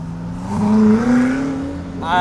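A Koenigsegg Jesko supercar engine drones loud and close as the car drives, its pitch rising steadily while someone talks over it.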